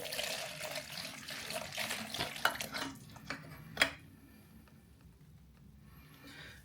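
Engine coolant from a Yamaha MT 125 / YZF R125 motorcycle pours and trickles into a container, a steady close watery splash with a few sharper drips and knocks before thinning to a quieter dribble.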